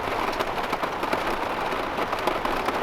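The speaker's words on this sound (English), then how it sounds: "Rain is picking up" Heavy rain drums steadily on a camper van during an Atlantic storm, a dense, continuous patter with no voices.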